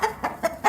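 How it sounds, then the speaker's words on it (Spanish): A chicken clucking in four short, evenly spaced bursts, close and fairly quiet, with no other sounds. "¡Es una gallina!"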